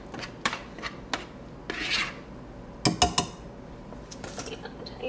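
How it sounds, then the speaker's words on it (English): A spatula scrapes banana bread batter out of a mixing bowl into a loaf pan, producing irregular close scrapes and clinks against the bowl. "I usually like to use a spatula to make sure I get everything out of my bowl"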